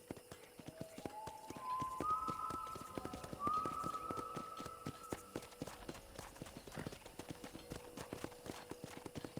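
Steady hooves clip-clop at a walking pace at a ranch corral in the video game Red Dead Redemption, with a horse whinnying partway through over a quiet background.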